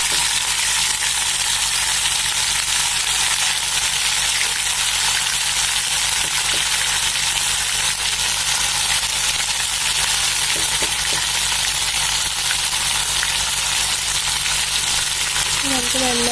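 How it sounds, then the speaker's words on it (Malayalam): Prawn vada batter frying in hot oil, a loud, constant close sizzle with fine crackling that continues unbroken and alone. "ഇനി നമുക്കിതിലേക്ക് ചെമ്മീൻ മിക്സ് കുറച്ച് കുറച്ചായിട്ട് ഇട്ട് കൊടുക്കാം."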